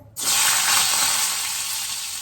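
Stuffed brinjals dropped into hot oil set off a loud, steady sizzle that starts abruptly and holds bright and close, easing slightly toward the end, with no voices.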